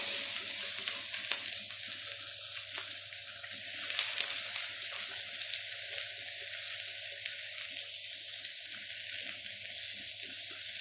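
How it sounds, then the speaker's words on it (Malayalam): Fish frying in coconut oil with curry leaves, a steady close sizzle and crackle of hot oil running throughout with a few brief stirring sounds and no talk. "ശേഷം ഇത് വറുത്തെടുക്കാം."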